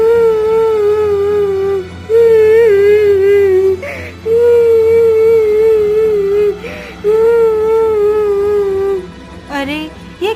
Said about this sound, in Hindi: अरे, ये किसके रोने की आवाज है?